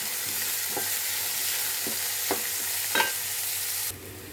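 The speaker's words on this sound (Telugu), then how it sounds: "దీంట్లోనే కొద్దిగా పసుపు వేయించుకోవాలి." Turmeric frying in hot oil in a pan, a steady bright sizzle throughout with a few soft stirring scrapes, before the sizzle drops away abruptly at the end.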